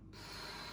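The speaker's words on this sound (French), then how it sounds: "Je souffle en descendant." One brief, breathy exhale during an upper-body elastic-band exercise, a close rush of air that starts abruptly and fills the moment, with no talking.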